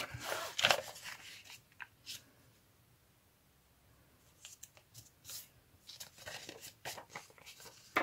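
Paper being folded by hand for a small folio craft project built around French invoices, with crisp crinkles and short rustling bursts separated by quiet pauses, close up and without talk.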